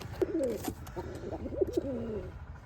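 Pigeons coo repeatedly inside a pigeon house, their soft, throaty calls rising and falling close by over a low background hum.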